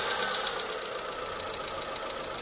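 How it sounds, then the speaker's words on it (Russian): A car engine idling with a fast, even knocking rumble, steady and fairly close, no voices, after reconnecting the ignition coils during a power steering fluid change. "Сейчас мы подключили свечные катушки и заводим мотор"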